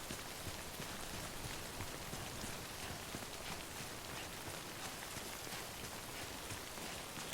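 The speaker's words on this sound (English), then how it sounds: "what rain literally means in this game is time in liquid form" Steady rain falling in the video game Death Stranding, a dense continuous hiss of drops on surfaces that holds at an even level for the whole stretch with no voices.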